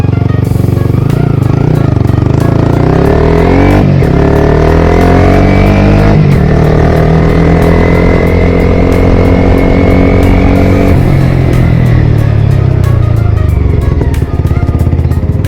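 A Yamaha R15 V4 motorcycle fitted with a 3Tech Tridente exhaust runs loud and close, its engine idling in a steady drone and rising in a few throttle blips before settling again.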